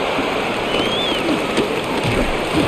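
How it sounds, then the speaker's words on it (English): Steady, dense hiss of rain falling on a stadium in Madden NFL 26 during a Raiders versus Steelers game in Pittsburgh, continuous and even with no voices over it. "rain continues to fall"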